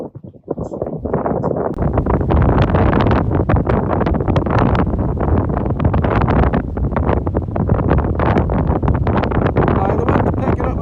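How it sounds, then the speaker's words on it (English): Gusty wind picks up outdoors in the Scottish countryside, buffeting the microphone in loud, rough bursts that roar almost continuously after a brief quiet opening. "The wind's picking up a bit now."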